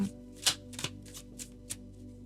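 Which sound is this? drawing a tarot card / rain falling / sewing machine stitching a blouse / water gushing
drawing a tarot card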